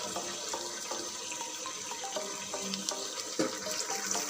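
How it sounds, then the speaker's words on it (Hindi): Water is poured into a pot of fried potatoes for a mutton curry, a continuous splashing, gurgling pour with small bubbling clicks, quiet and close, with no voices over it. "अब हम इसमें डालेंगे पानी।"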